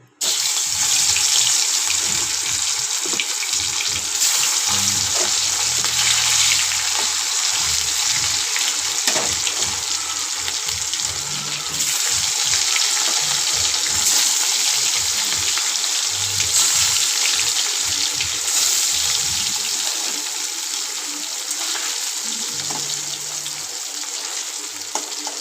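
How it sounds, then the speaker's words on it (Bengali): Fish frying in hot, steaming oil in a home kitchen gives a steady, loud hiss and crackle that runs without break, with no voices over it. "তেলটা গরম হয়ে গেছে, ভাপ উঠে গেছে। এবার আমি মাছটা ছাড়বো।"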